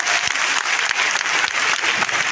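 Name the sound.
audience clapping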